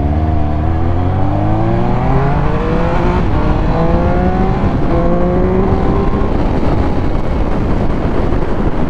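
A new motorcycle engine revs repeatedly during break-in, kept under moderate RPM, with rising and falling harmonic whines layered over constant wind rumble, loud and close throughout.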